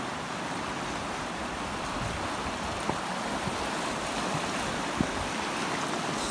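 A river in the Uinta Mountains rushing steadily at a campsite, a broad continuous wash of flowing water with no talk over it.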